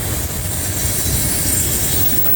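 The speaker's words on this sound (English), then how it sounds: "so this is the Manifest train." A manifest freight train rolls past the Lewis Speedway crossing, a steady loud roar of railcars and wheels on track, close by, with faint squeal and clatter and no talking.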